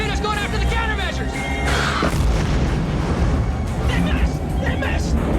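Torpedo detonating against submarine countermeasures in a naval war film, a dense rumbling boom with crashing debris over a low roar, with voices and scoring layered over the explosion throughout.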